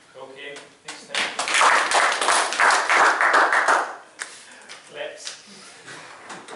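Audience at a coaching workshop breaks into applause, a dense burst of clapping building quickly, sustained for a few seconds then tapering, with a voice speaking briefly before and after.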